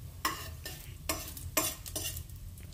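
Lightly crushed whole coriander and spices being stirred in a hot frying pan for a spicy potato-eggplant dish, giving repeated scraping strokes over a steady low sizzle.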